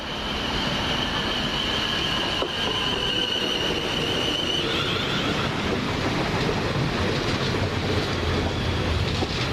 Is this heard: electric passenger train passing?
yes